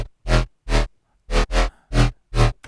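A gritty, distorted Serum synth bass plays six short, punchy notes in an uneven rhythm, loud and close, with brief silences between.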